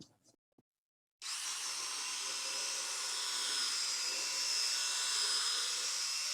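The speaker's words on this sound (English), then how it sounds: "If required, or if you want to, you can use a drill brush, right?" After a brief silence, a power drill fitted with a scrub brush starts up and runs steadily on carpet with a high, buzzing whine and scrubbing hiss, close and continuous to the end.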